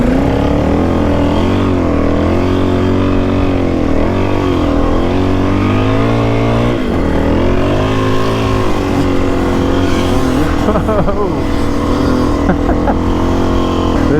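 Motorcycles push through deep, soft beach sand, engines droning loud and continuous with wavering revs and strain close by, without a break from start to finish.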